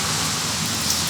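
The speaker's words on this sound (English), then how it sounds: "It's been raining for a while, and we don't want to wait" Steady rain pours down in an outdoor setting around a Mercedes-Benz being photographed, a dense, even hiss of drops hitting surfaces that fills the whole moment without a break.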